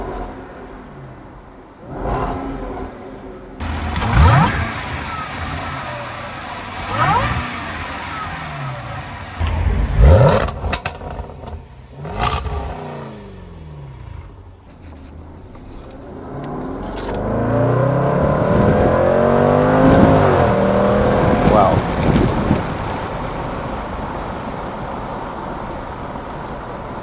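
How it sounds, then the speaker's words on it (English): A Jaguar F-Pace SVR revs hard in a series of loud, rising bursts, then settles into a long sustained acceleration pull, with sharp crackles and pops from the exhaust between the surges. "It makes that kind of popping and spitting noise, doesn't it, as well?"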